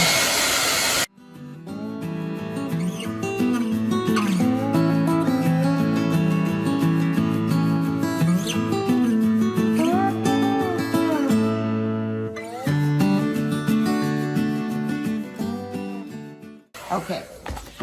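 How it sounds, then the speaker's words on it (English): Hair dryer running on hot and high to dry a ceramic pumpkin, a loud continuous whirring blow that holds steady for most of the stretch, with a person speaking over it. "And now we're going to dry it with the hairdryer. So turn your hairdryer on hot and high."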